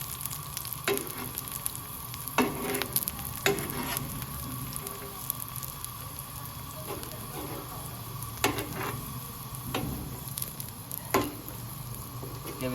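A cauliflower-stuffed paratha cooks on a hot pan with a low, continuous sizzle, broken by occasional sharper crackles and soft taps as it is pressed and turned, and no voices are heard.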